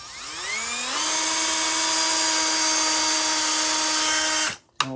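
A Milwaukee cordless drill backs screws out of an electrical receptacle, its motor whining up to a steady loud pitch and holding for several seconds before stopping, followed by a brief blip.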